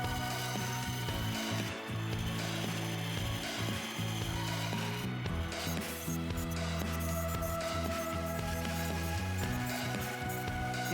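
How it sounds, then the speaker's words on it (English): A chunk of wood is carved and sanded with a power tool into the shape of a reel body, giving a continuous loud whirring drone with rough grinding variations, close and without talk. "Now I'm just carving off and sanding down this chunk of wood"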